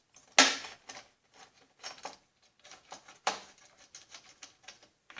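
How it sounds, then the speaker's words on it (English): Motorcycle bolts, washers and bushings being fitted back in by hand during fender and chaincase work, a series of soft metallic clicks, taps and rattles, close and quiet, with short pauses between. "Now I'm going to put the bolts back in."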